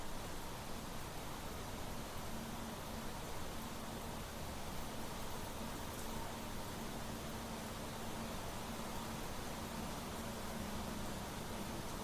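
Rainfall in the video game Planet Crafter, a dense, continuous wash of hiss with a faint low hum underneath, unchanging from start to finish with no voices.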